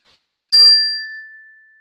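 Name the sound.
chime sound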